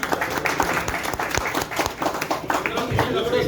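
A crowd claps irregularly at a farewell ceremony gathering, sharp scattered hand claps continuing throughout with people talking over them.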